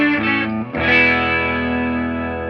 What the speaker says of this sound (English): let's start on the fun part, the 12 string on the top.